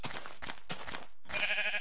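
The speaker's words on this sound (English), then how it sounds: "Sheep number 1 has been captured." Sheep bleating in the Minecraft video game, a few clear calls following one another up close, then a brief gap before a brighter game tone rings out.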